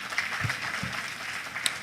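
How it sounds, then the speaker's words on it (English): Applause from a conference audience, heard as a diffuse wash of many hands clapping at middling volume that carries through the short stretch, with no clear voices over it. "Please, can we give him another big round of applause?"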